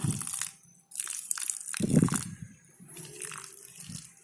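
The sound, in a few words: watering aglaonema plant in potting medium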